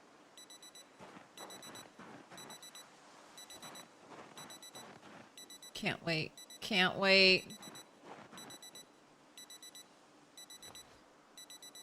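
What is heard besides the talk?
wristwatch alarm beeping in Project Zomboid video game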